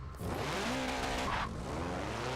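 A 700-horsepower sleeper VW Type 3 in Forza Motorsport 7 bogs down at launch, its engine note wavering low before rising, with a brief tire squeal and no talking.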